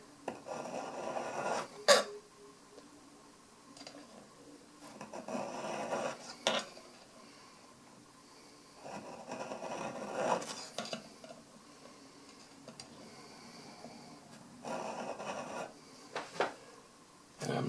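Hand file cutting a metal part for a titanium 10mm high-capacity 1911 pistol build, heard as several bursts of rhythmic rasping strokes separated by short pauses, with occasional sharp metallic clicks.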